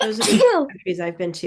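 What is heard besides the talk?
sneeze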